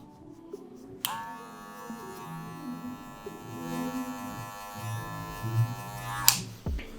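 Electric hair clippers with a 0.5 guard blending a skin fade, a steady close buzz switched on for about five seconds between soft handling noises, with no talking.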